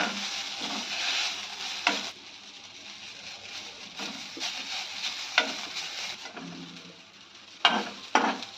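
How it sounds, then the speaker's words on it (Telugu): Mint leaves fry in oil in a home pan for a Telangana tomato-mint chutney, a continuous hiss of sizzling broken by several sharp stirring scrapes, no talking. "ఆకులు పూర్తిగా ఫ్రై అయ్యేంత వరకు వేయించుకోవాలి"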